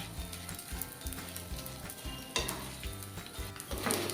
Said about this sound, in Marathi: हा डिंक आहे ना हा तुपामध्ये तळून घ्यायचा आहे